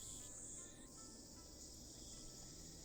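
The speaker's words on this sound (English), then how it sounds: "Damn, cicadas won't shut up." Cicadas drone steadily in a video game scene on a hot late-summer evening, with a continuous high buzzing shrill that holds throughout and pitches slightly down partway through.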